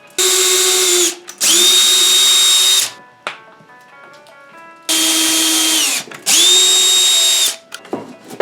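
A handheld power drill bores while tape holds the parts of a homemade vacuum former, running in two loud bursts, pausing, then two more long whines with spin-up and spin-down, with faint handling noise between.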